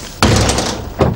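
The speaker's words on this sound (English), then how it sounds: "We're going to break the door down." A loud, heavy crashing thud against a door, followed by a second forceful impact a moment later.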